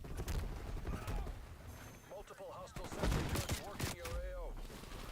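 Gunfire rattles in Call of Duty Black Ops Cold War Zombies, quick bursts of shots mixed with game effects, close and loud, with a player talking over it.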